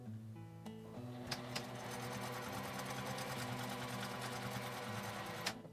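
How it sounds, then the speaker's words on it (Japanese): A sewing machine stitching closed the turned-in opening of a quilted phone shoulder bag, a steady close motor whir with a rapid needle clatter after a brief start-up. "返し口を1センチ内側に折って縫います。"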